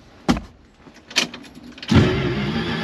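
Dodge Coronet 500 sitting unused for about 25 years, two sharp clunks as the key is turned, then the engine catches and settles into a rough running rumble, close and with no voices.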